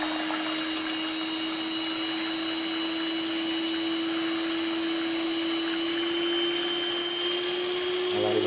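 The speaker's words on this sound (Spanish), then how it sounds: "Ahora para esto vamos a requerir el uso de la batidora." An electric hand mixer whips coffee in a bowl with a steady, loud motor whine and a constant high tone that hold without pause.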